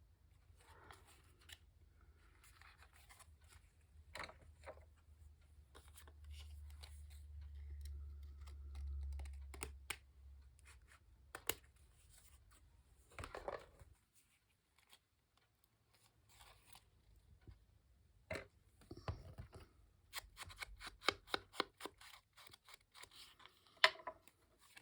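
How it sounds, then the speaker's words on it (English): Scissors snip through a paper tab, which is then torn off, while an interactive accordion journal is being made. Quiet, close clicks, snips and rustling come in scattered bursts over a low background hum. "I think I'm going to cut this tab off."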